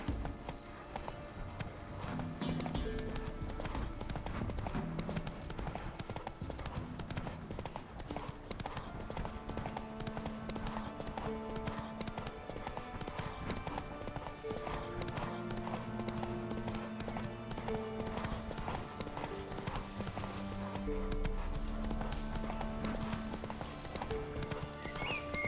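Roach, a horse in The Witcher 3, gallops with a fast, continuous clip-clop of hooves. A whinny sounds within the game's background music.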